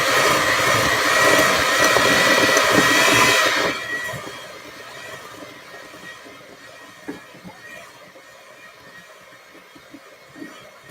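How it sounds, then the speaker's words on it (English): Fast electric hand mixer beating soft butter for apple fritter bread, a loud steady whirring drone that drops to a quieter hum partway through, with a few faint clinks. "I want to mix it up first. So let me just go slow with it because my mixer is very fast when I start."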